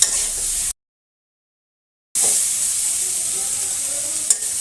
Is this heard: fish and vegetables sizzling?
yes